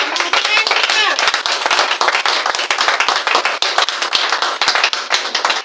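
A church congregation claps loudly and steadily in sustained applause to acclaim God, with dense, continuous hand-claps filling the whole space and a few voices calling out beneath.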